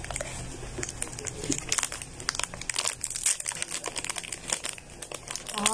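A sweet snack's plastic wrapper is crinkled and torn open up close, a dense run of sharp crackles and rustles lasting several seconds.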